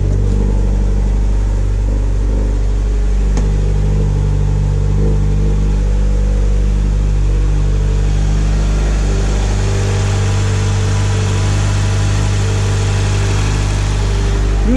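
A Ford Escort XR3i cabriolet engine runs after starting, a loud, steady, low idle rumble with constant vibration that swells slightly in the second half, heard close with no talking.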